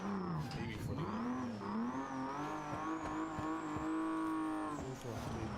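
Racing game car engine revving hard at full throttle, a steady loud drone with rising and falling pitch, plus brief tire scrub, heard continuously with talk over it.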